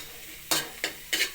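Garlic and onion sautéing for a frog dish, with three sharp sizzling bursts as ingredients are stirred in a pan, each one loud and close. Quieter background noise fills the gaps between bursts.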